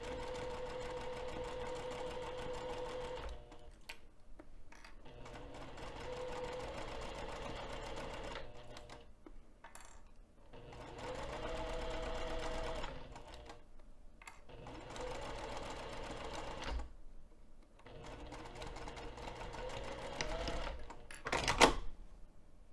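A sewing machine stitches a stretched mesh elastic pocket onto a bag at a 3 mm stitch length, running close and steady in several long bursts separated by short pauses.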